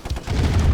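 Tanks fire on a construction yard in Command & Conquer Remastered's Red Alert, a short burst of rapid, overlapping gunfire and blasts that ends in a dense low rumble.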